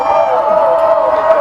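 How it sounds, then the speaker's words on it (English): Rival students and home fans cheer together at a high school football game between the Williamsburg Wildcats and Eastern Eagles, a loud, steady crowd roar with shouts and whoops; no cowbell stands out distinctly. "they're cheering with our fans right now. So it's friendly. It's friendly over here. They're ringing cowbells and being loud"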